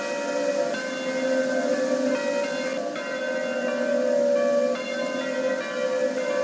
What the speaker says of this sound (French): Le son des cloches est si harmonieux.